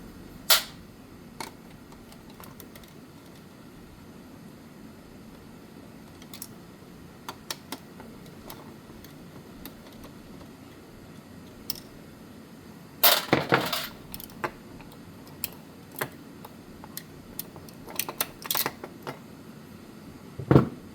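Small metal clicks and taps as stator nuts come off a Delco Remy 10SI/12SI alternator, sparse and close in a quiet room, with a louder cluster of ratchety rattles in the middle.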